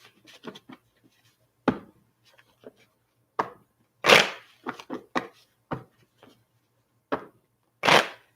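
Tarot cards are shuffled by hand in short, separate bursts of riffling and slapping, close and fairly quiet, with pauses between them and no talk over them.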